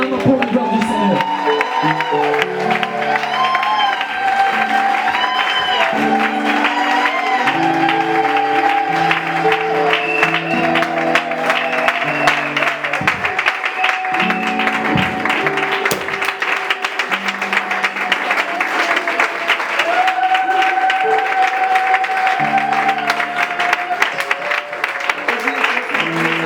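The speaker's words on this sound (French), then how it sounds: "On acclame pour la gloire du Seigneur." A church congregation at a wedding blessing claps and cheers loudly and continuously, whoops and voices mixed in, while music with sustained tones plays underneath throughout.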